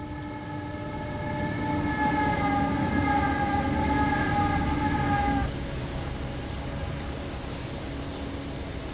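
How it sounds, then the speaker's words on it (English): In the Trainz video game, a CSX freight train led by AC44 and C40-8 locomotives rumbles past Pine Creek, its horn holding a long chord for several seconds over a steady rolling roar. "this train had plenty of classic CSX power as it knocks down south end Pine Creek"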